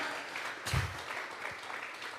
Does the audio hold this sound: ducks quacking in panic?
no